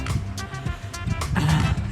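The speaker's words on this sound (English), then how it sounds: "Lots of horses." Horses in a rural mountain area of Colombia, with a possible snort or whinny and soft hoof sounds close by amid outdoor ambience, no talking.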